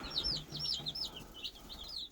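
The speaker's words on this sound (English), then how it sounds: "23 little baby chicks arrived here on the homestead today" Baby chicks newly arrived on a homestead peep in rapid, high chirps, several birds overlapping close by over a low background rumble.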